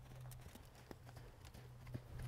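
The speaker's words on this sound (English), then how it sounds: "These girls, I'm having them just post the trot through the poles." A horse trots through ground poles in an arena, hooves striking in a steady, even clip-clop rhythm at moderate distance over a low steady hum.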